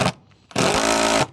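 A power tool cuts a Colorbond metal roofing sheet in a loud, steady burst of about three-quarters of a second, following a brief short blip, close by.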